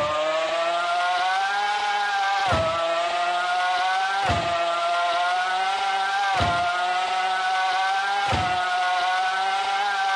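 A racing car engine in the Roblox game Car Dealership Tycoon drones with a high, loud, sustained tone, dipping sharply in four regular gear-shift drops roughly every two seconds.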